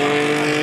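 A rally car on a winter race course at Pieksämäki drives past in a short, loud, steady engine drone with a strong tonal hum, heard alone.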